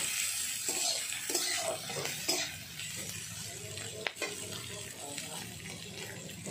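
Bottle gourd and shrimp curry is stirred and fried in a pan, with a steady sizzle under scraping utensil strokes and occasional light knocks, heard nearby.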